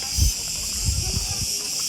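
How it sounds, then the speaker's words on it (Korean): A constant, high-pitched cicada buzz hangs steadily over faint low rustling and muffled background sounds, on a hot summer day near a mountain lake on Crete, Greece. "매미 시끄러워."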